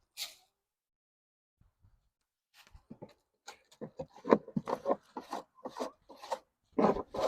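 Close scrape after scrape as heavy chicken droppings are pushed off backyard coop boards, a run of rough rasping strokes that starts after a quiet pause and grows louder.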